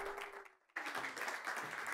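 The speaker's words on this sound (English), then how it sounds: "A big round of applause, please, for Sonia Stewart." Applause from an audience welcoming a speaker to the stage, with a brief dip near the start before a dense, steady clapping resumes and continues to the end.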